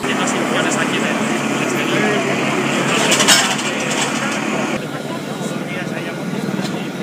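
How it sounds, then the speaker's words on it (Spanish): A Community of Madrid helicopter flies overhead during a disaster-response rescue exercise with firefighters in Alcorcón, a steady broad rotor and engine roar swelling and easing, with people talking over it. "Nos está sobrevolando un helicóptero durante todo el desarrollo del ejercicio."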